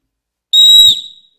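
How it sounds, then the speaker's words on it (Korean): A single sharp, shrill whistle blast, loud and close, held for about half a second before cutting off, with no voices. "호루라기 한번 불어볼까요?"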